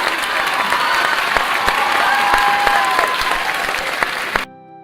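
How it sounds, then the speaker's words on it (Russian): A crowd applauds steadily in the video game Corsairs: To Each His Own during a card tournament, many hands clapping at once with a few brief cheers, then the applause cuts off abruptly near the end. "Аплодисменты."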